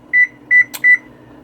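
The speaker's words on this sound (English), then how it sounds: "I forgot to put the timer on, so I know when a half an hour is up" A kitchen timer is set with three short electronic beeps, each a doubled tone, plus a quick click between them, all heard close up over a low hum.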